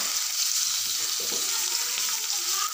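Onion and garlic sauté in oil in a pan for an ampalaya dish, a dense continuous sizzling hiss that stays loud and even throughout.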